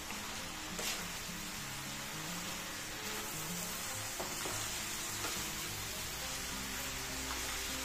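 Shredded cabbage and frozen peas sizzle steadily in a hot pan while being stirred, with a constant hiss broken by occasional soft scraping strokes.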